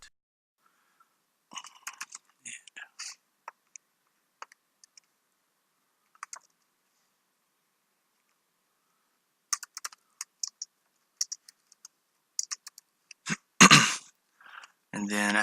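Scattered bursts of keystrokes on a computer keyboard come in short irregular runs with long quiet gaps, ending in a louder flurry of clicks.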